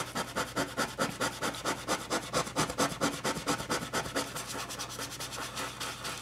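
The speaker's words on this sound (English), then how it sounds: "It takes a little bit of muscle to scrub this into the page" A scrubber brush rubs colored pencil into paper in fast, rhythmic back-and-forth strokes, a dense close scratching that goes on steadily without pause.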